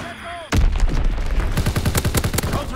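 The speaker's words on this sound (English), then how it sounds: "Dropping Fritz X bomb." A Fritz X bomb drops and explodes in a WW2 video game, with a sudden heavy blast followed by a rapid series of booming detonations and crackling gunfire, loud and close.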